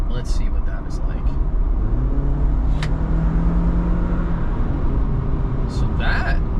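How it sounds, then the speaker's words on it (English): A 2023 Jeep Wrangler Rubicon 4xe plug-in hybrid picks up speed under light throttle on a public road. A low drone rises in pitch for a few seconds under constant road and cabin rumble. "I'm going to try and give the car a little bit of throttle, but not a lot"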